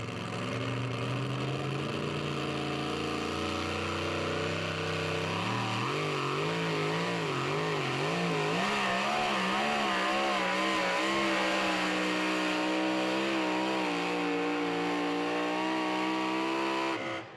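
Two-Timing, a 2WD pulling truck, roars at full throttle for a long continuous run at a Saluda, South Carolina pull, its loud engine note rising and wavering as it pulls down the track.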